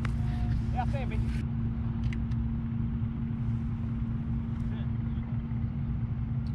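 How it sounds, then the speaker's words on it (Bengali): A Keeway motorbike engine runs at a steady idle just after starting, a close, constant low rumble lasting throughout, with brief talking near the start. "বললাম না ইঞ্জিন স্টার্ট হয়েছে এতক্ষণে"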